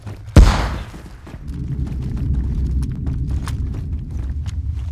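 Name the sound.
grenade explosion in the video game DayZ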